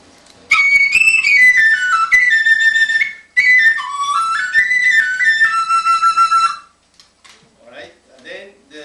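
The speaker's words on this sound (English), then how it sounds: "The northern flute is smaller, and the tone color is different." Northern-school Chinese flute, a smaller bamboo flute with a sharp, loud, piercing tone, plays two bright melodic phrases up close, with brief ornamented runs; short speech follows after the playing stops.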